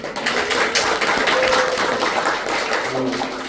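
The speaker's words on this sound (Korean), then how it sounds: "박수 한번 쳐주시겠어요?" A small crowd claps steadily for a veteran singer and instrumentalist, a dense, even wash of hands lasting several seconds, with a faint voice surfacing near the end.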